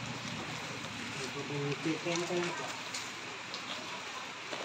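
Steady rain falls in an outdoor Filipino street-vendor setting, a constant broadband hiss throughout while people talk nearby.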